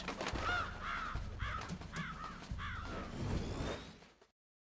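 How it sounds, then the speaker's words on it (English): A raven in the Metal Gear Solid video game caws repeatedly, a string of about six harsh calls over a low rumbling game background, clear and near before cutting to silence. "Yes, the raven on my head. It thirsts for his blood."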